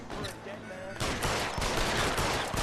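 Gunfire in a shootout in the video game L.A. Noire: a sharp opening shot followed by rapid, dense bursts of repeated shots that build to a loud, sustained volley.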